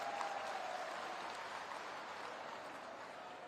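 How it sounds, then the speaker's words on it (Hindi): Applause from a crowd at a political rally greeting the chief minister, a steady, dense wash of clapping that holds evenly throughout with a faint tone underneath. "माननीय मुख्यमंत्री जी का एक बार तालियों की गड़गड़ाहट से उनका हृदय से स्वागत सम्मान करने का काम करेंगे"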